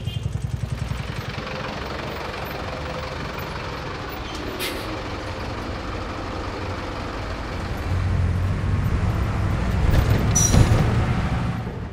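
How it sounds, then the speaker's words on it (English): Mexico City street traffic with a continuous low rumble of passing cars and trucks, two sharp air-brake hisses, and engine noise swelling nearer toward the end, with no voices. "You hear all the time the buzzing of cars coming and going"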